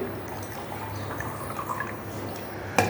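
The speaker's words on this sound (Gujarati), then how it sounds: "આ પાણી ભરીએ છીએ." Water poured into an empty plastic bottle, giving a soft, steady trickling and filling sound that ends in a brief louder splash.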